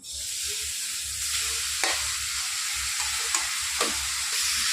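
Grated bottle gourd roasting in ghee in a kadai, giving a steady close sizzle with intermittent scraping stirs, alone without voices.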